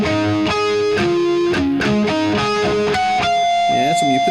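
Electric guitar with distortion playing a song, a quick series of picked notes and ringing harmonics that ends in sustained chiming tones, loud and close.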